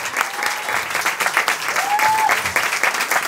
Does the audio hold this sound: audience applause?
yes